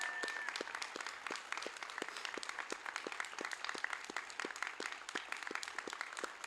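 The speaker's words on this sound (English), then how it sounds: "could the guests please help me thank them for their efforts and give them a warm round of applause?" Warm round of applause from guests at a Navy A-School graduation ceremony at Training Center Yorktown, steady sustained clapping from a crowd, moderately distant and even throughout.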